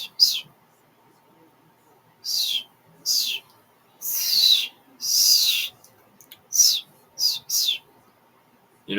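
Someone whistles to imitate a bird, giving a series of airy, high chirping bursts of uneven length with short pauses between, close up and unaccompanied over a low steady hum.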